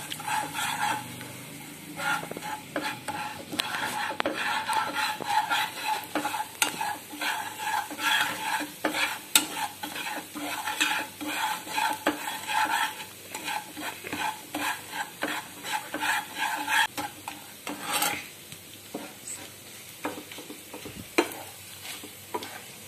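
A spoon stirs a sweet dish in a pan over a low flame, scraping the pan in quick, irregular strokes against a soft sizzle. The sound is close and moderate, and a rooster crows faintly in the distance.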